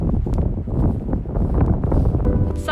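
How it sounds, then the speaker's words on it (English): Strong wind gusts batter the microphone outdoors, a loud, rough, fluctuating rumble with brief rustling bursts and no voices. "it's really windy right now"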